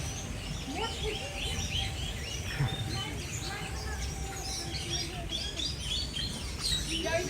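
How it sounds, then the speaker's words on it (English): Pied imperial pigeons give scattered soft calls and chirps among other birds in a busy outdoor setting, faint and steady beneath ongoing crowd chatter and a constant low hum. "Those pied imperial pigeons."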